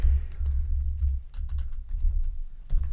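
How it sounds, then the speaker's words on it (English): Survey answer choices are typed on a computer keyboard as rapid soft key taps in an irregular rhythm over a low background hum, close and moderately quiet, with no speech. "Maybe it's just going to be easier for you to type them in."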